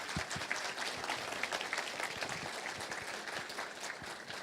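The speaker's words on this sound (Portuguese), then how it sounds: "vou pedir uma salva de palmas aí pro Lacer" An audience at the SAP18 event claps for the speaker Lacer after his talk, producing steady, dense applause that continues evenly throughout at a moderate distance.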